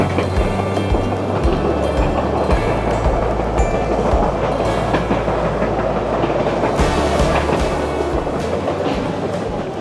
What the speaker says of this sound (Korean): 숲속에서 이렇게 열차를 타고 다니니까 너무 낭만이 있더라고요.